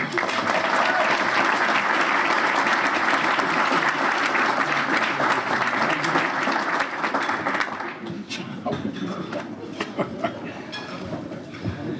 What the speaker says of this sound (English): Ladies and gentlemen, a big round of applause for my friend Robert Lewis Jr.